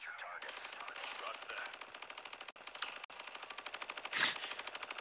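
Sustained automatic gunfire in the Ghost Recon Future Soldier video game: a rapid, continuous rattling burst heard fairly faintly, with a brief louder blast near the end and voices under it.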